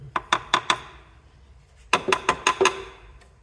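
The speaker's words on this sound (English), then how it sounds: "Hear the fuel coming through" An MGB GT's fuel system primes as fuel is pushed through the line, heard as two quick bursts of sharp, rapid ticking, each about five clicks, separated by a short quiet gap.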